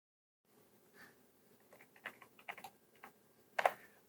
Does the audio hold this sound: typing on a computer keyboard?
yes